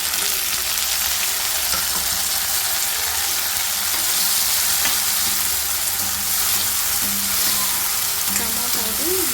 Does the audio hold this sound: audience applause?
no